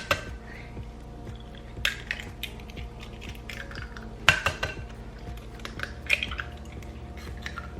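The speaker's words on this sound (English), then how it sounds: "I'm beating the eggs and sugar together for a few minutes while keeping my eye on the whipping cream." Eggs and sugar are beaten together in a bowl with a steady run of quick, light clicks and taps, and a few sharper clinks of metal against the bowl over a quiet kitchen background.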